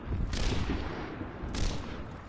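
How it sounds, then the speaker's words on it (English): Two sniper rifle shots in an Overwatch match, each a sharp burst with a short decaying tail, spaced about a second apart amid low game noise. "Raywa headshots Blazing Puncher, takes him out"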